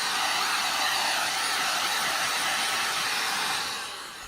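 A heat gun blows steadily over Kydex holster foam, a loud, close, continuous airy roar with a hissing edge that holds level and then fades slightly at the end.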